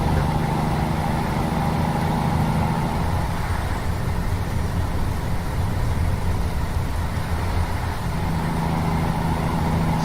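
Steady, droning truck engine hum while driving in American Truck Simulator, a continuous low rumble with road noise that shifts slightly in pitch, with no talking over it.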